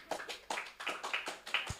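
Students at a school Scout gathering clap together in a rhythmic chant, about five evenly spaced beats of group clapping, fairly near and moderately loud.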